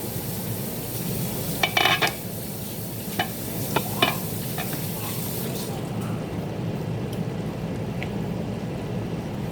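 Vegetables for a quick Asian spaghetti bubble and sizzle in a pan with a steady close crackling hiss, joined by a few brief clinks partway through.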